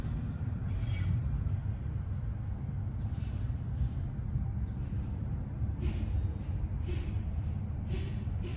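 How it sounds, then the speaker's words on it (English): Lynx light rail train of Siemens S70 Series 2 cars passing through I-485 station, a steady low rumble of wheels on track lasting throughout, fairly close, with faint higher squeals and clanks now and then. "There's another train right there."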